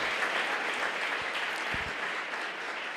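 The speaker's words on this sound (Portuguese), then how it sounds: "Você pode aplaudir o Senhor?" A church congregation applauds steadily through the whole stretch, a dense, even patter of many hands filling a hall, with a few sharper claps standing out and no voice above it.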